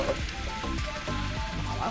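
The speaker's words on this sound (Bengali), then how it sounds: "সবই বৃষ্টির মধ্যে।" Rain falls steadily outdoors during preparations for Vishwakarma puja and pandal building, a close, even hiss throughout, with a faint voice in the background.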